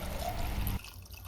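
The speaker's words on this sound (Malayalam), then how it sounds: "1 കപ്പ് വെള്ളം കൂടി ചേർത്ത് കൊടുക്കാം" A cup of water is poured into a pan of Kerala-style sweet potato curry with a short gurgling, splashing pour that stops abruptly, leaving quiet room noise.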